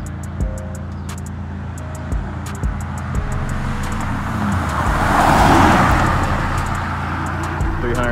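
Car engines and traffic noise on a Mexico street racing strip, a steady loud roar with revving that swells toward the middle and then eases, while people talk in the background.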